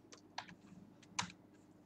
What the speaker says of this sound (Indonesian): Kita akan mengetik di sini SSD 1.